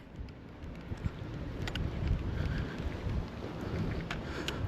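Wind gusts roar steadily on a rainy day, a dense, rumbling wash of noise with a few faint higher ticks scattered through it and no voices.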